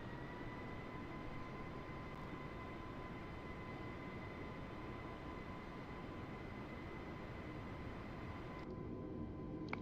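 Airbus A320neo engines held at 30% throttle in a flight simulator, a steady low roar with a sustained whine tone, even and continuous, dropping off sharply at the very end.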